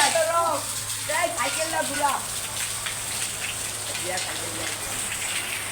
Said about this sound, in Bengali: আজকে আমাদের এই নারায়ণগঞ্জে বৃষ্টি হচ্ছে প্রচুর